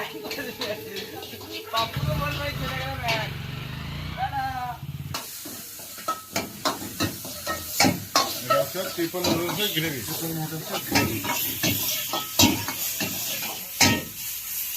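Tomatoes, peas and chicken frying and being stirred in a pan at a picnic, a steady crackling sizzle with scraping stirs while voices talk over it throughout.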